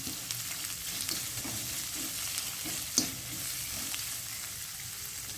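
Onions sauté in a pan with a steady, even sizzle and occasional soft stirring scrapes, one sharper clink midway, close and fairly quiet with no talking.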